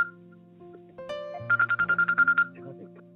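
A phone rings in the background during an online Sunday School call: a short electronic tone, then a quick run of about ten bright pulsing beeps. It is fairly loud and clear over a quiet room.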